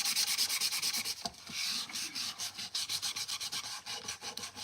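Steady, rhythmic rasping strokes of sandpaper worked by hand across wood, close up and fairly quiet, with a brief pause partway through.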